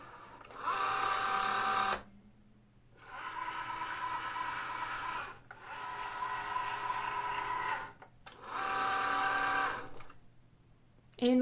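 An electronic cutting machine fitted with a fine point blade works through craft material in three long bursts of whirring, buzzing motor travel separated by short quiet pauses, heard close up.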